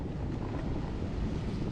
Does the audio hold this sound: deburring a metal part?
no